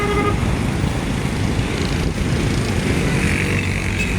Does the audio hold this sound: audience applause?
no